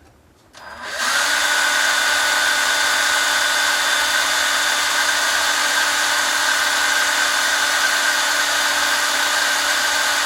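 A homemade Maytag upright engine starts up and then runs at about 11,000 RPM with a loud, steady high-pitched whine that holds unbroken and close.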